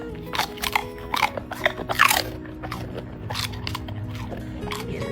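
A dog bites into a cookie and chews it close up, giving a series of sharp, loud crunches that fade into softer steady chewing.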